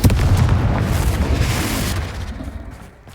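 A Confringo fire spell bursts in Hogwarts Legacy with a loud, close, booming blast whose rumbling roar hangs on for a couple of seconds before tailing away, no voices over it.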